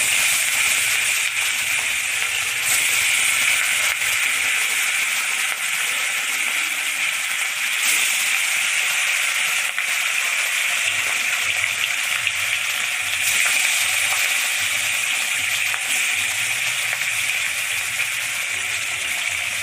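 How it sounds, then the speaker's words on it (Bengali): Katla fish frying in hot oil in a home kitchen pan, a steady loud hiss and crackle running unbroken throughout with no talk. "মাছটা আমি ভেজে নিই"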